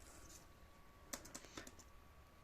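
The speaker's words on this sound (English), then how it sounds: "When you're typing here" A few soft keystrokes tap on an HP ProBook laptop keyboard in a quiet room, a short irregular cluster of faint clicks with a low steady hum beneath.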